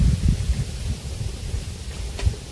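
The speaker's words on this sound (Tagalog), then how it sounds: "Hangin kasi mga tol." Wind gusts buffet a microphone outdoors, producing uneven low rumbling bursts and a steady breathy hiss throughout, with no speech.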